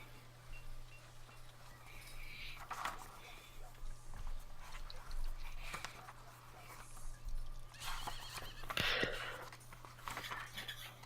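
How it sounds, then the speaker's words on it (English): Horses neigh and whinny in a medieval village setting, mixed with faint hoof clops and barnyard noise over a steady low hum. A louder whinny rises near the end. "I hear horses."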